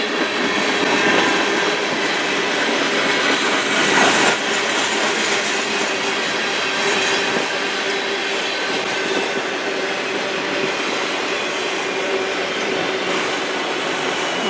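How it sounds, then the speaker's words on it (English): A CN freight train on the Strathroy Subdivision rumbles steadily past at close range, a continuous loud roar of wheels and cars on the rails with no voices. "My first train in a few days."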